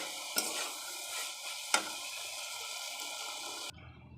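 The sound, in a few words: sautéing chopped tomato with salt and turmeric for ghugni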